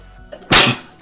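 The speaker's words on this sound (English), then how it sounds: "I feel another sneeze coming on." One sharp, loud sneeze bursts out up close after a short inhaled catch and fades within half a second.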